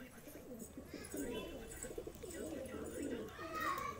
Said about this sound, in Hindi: बिल्कुल बंद दुम का कबूतर